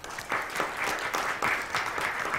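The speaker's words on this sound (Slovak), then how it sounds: "ešte poprosím potlesk pre pána Boleka z IAD Investment" An audience at a Slovak investment panel event claps steadily in a moderate, even ovation, with rhythmic clapping pulses and no voices over it.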